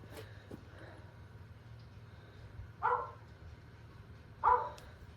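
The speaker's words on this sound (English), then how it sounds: "Oh, you can hear my dog barking." A household dog barks from another room of a home pottery studio, two short muffled barks spaced a couple of seconds apart over quiet background.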